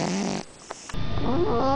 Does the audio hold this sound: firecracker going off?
no